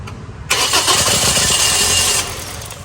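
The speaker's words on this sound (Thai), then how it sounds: "แต่เครื่องยนต์สตาร์ทติดแล้วมันดับลงนะฮะ" A Toyota Yaris engine with a starting fault cranks and catches with a loud, rough roar, runs for about two seconds, then abruptly drops off as it dies.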